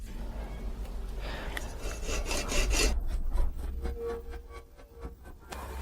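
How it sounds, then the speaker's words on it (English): Hacksaw cutting off the crooked excess edge at the bottom of a homemade metal fishing weight clamped in a vise, a steady run of rasping back-and-forth strokes, close and fairly loud, with no talking. "using a hacksaw."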